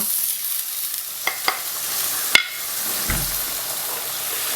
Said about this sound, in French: Vous mettez votre crème dans votre poêle, vous tournez